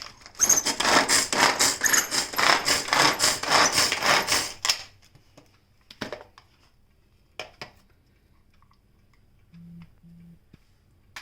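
Onions are chopped into small pieces on a board for green plantain vada, a fast, steady run of close knife taps for several seconds, then a few isolated knocks and quiet.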